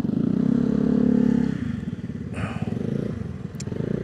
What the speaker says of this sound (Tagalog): Ang ingay ng motor mo, Vicky.